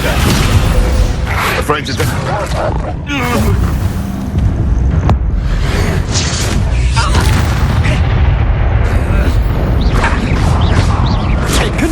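Confringo and Descendo spell blasts erupt in the fantasy game Hogwarts Legacy as dense, loud booms and crashes in a frantic fight, with a voice speaking briefly amid the continuous explosive clamor.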